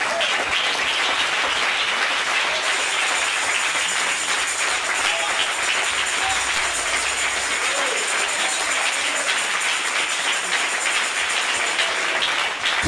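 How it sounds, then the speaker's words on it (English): A church congregation gives a sustained round of applause for Bishop Floyd during a holy convocation, a loud, even roar of many hands clapping that carries on without a break, with faint voices underneath. "I think we ought to give him an extra round of applause."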